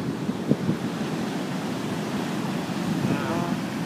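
Ocean waves break and wash steadily onto the shore, a constant broad roar with wind buffeting the microphone and a few thuds of surf, heard alone without talking.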